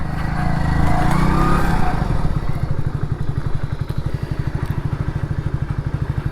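Close-range putter of a motorcycle used as a Rapido bike taxi, rising from a rev into a steady, rapid pulsing idle-like engine beat with occasional light clatter.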